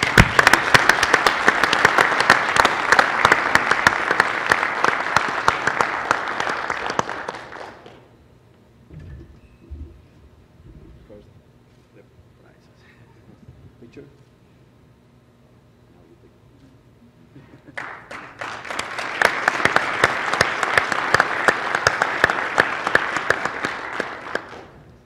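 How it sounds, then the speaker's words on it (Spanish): A large conference audience breaks into strong, sustained applause for award recipient Bevil, a dense wash of clapping that fades out, leaves a quiet stretch with faint stage noises, then swells back to full applause. "le pido un fuerte aplauso para Bevil"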